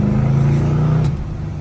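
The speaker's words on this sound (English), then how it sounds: "this is a brand new cam and lifter, so we're not gonna let it sit here and idle. We'll rev it up a little bit." Freshly rebuilt 1968 Plymouth Barracuda performance 318 V8 with a brand-new cam and lifters, held at a steady, loud, close high idle before the revs drop away.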